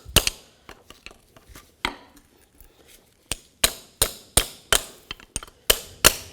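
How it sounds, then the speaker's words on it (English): Sharp metallic hammer taps on a screwdriver, driving out the bracket pins on a 2008-20 Nissan Rogue driveshaft; a dozen or so close, loud strikes, sparse and uneven at first, then coming in a steadier rhythm. "take a screwdriver and a hammer. Just give it a little tap like this"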